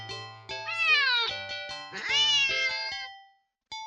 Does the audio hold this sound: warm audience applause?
no